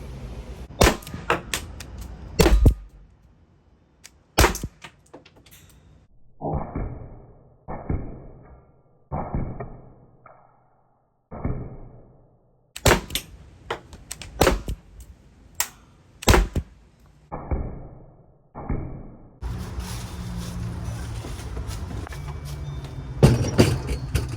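HDR 50 CO2 pistol firing .50 cal metal-plastic slugs, made in France, from a fresh CO2 canister at a target: a series of sharp, loud pops spaced irregularly with short pauses, with handling noise between shots.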